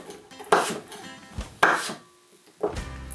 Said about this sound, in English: we can just use a knife to keep the apple half intact, but cut into little strips